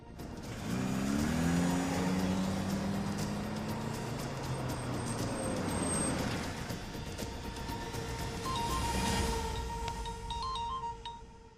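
A car engine hums and revs close by as the vehicle is manoeuvred into a parking spot, with a rising tone, a steady motor drone and a few electronic beeps toward the end; no one speaks.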